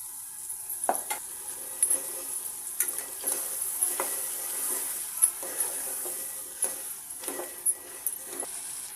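Ginger and garlic frying in oil with cucumber pieces for a cucumber curry, a thin steady sizzle punctuated by repeated short scraping and tapping strokes of stirring.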